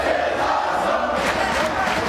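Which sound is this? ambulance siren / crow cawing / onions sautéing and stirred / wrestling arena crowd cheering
wrestling arena crowd cheering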